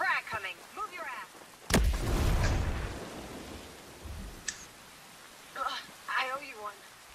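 A frag grenade goes off in the tactical shooter Ghost Recon Breakpoint with a sudden loud blast and a rumbling boom that fades over about a second, while players talk before and after it.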